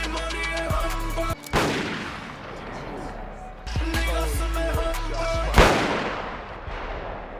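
Gunshots ring out in the open near a park hillside, a few sharp loud cracks spaced seconds apart, each followed by a rolling echo, with background sound between them.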